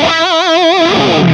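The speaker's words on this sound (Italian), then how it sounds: "Con il gain a cannone il suono diventa perfetto per delle ritmiche molto molto cattive, oppure direttamente per gli assoli" Electric guitar run through a Marshall-style distortion pedal with the gain at maximum, a single loud, saturated sustained note with fast wide vibrato that fades into a gritty tail, played alone.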